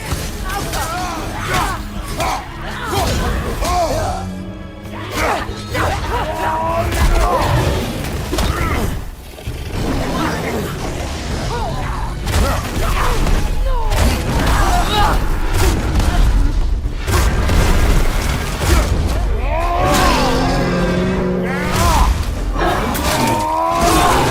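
Cannon fire and explosions in God of War Ragnarok strike in repeated heavy booms and thuds, loud and dense across the stretch, with shouting voices breaking in over the barrage.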